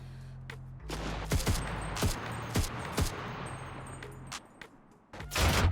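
Scattered gunfire in the online shooter CRSED: F.O.A.D., a string of sharp shots, some near and some farther off, over a steady low background rumble.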